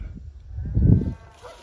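A mob of cattle with a sheep flock trailing behind during a drought gives a deep, drawn-out moo that swells near the middle, set against a low outdoor rumble.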